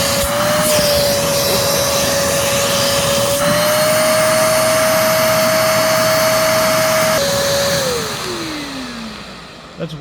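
A Kenmore EVO handheld vacuum cleaner runs with a loud, steady motor whine that shifts pitch slightly twice, then winds down as it is switched off.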